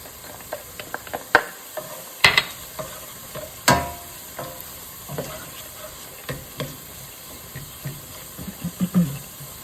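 Crushed garlic cloves sizzle in a hot pan for chilli, a steady frying hiss broken by scattered clicks and scrapes of stirring, close up.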